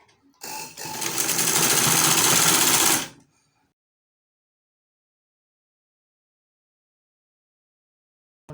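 A sewing machine stitches a patchwork dress in a loud, rapid burst of about two and a half seconds that stops abruptly, followed by a long silence.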